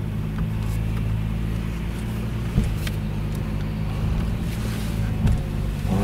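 A 700-euro Audi A4 V6 quattro with a high clutch bite point drives off, its engine droning steadily from inside the cabin with a low, constant rumble and occasional small knocks.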